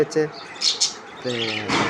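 Several squawks and chirps from pet parrots close by, in short bursts with a pause in the middle, over faint background noise.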